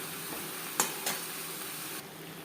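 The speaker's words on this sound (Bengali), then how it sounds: "মশলার সাথে ও মাছের সাথে বেশ ভালো করে মিক্স করে দেবো" Prawns with part-cooked potato and cauliflower being stirred with spices in a pan: a soft, steady sizzle broken by two quick clinks of a spoon against the metal.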